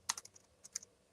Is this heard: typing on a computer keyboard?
yes